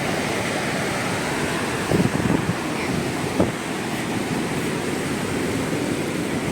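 Ocean waves break on Surathkal beach near Mangalore as a continuous, full roar of surf mixed with wind rumble on the microphone, with a couple of brief thumps partway through.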